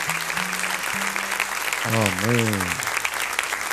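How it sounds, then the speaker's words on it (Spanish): A church congregation at a Sunday service in Santiago, Chile, claps steadily in a dense wash of applause while a voice speaks briefly over it. "deme un aplauso con ánimo"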